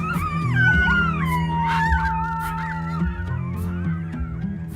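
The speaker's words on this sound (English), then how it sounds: "I can try to get them to howl for you." Captive wild canids at an Illinois wildlife center howl together in a loud chorus, several wavering, gliding voices overlapping over about five seconds, with close, sustained tones and no talking.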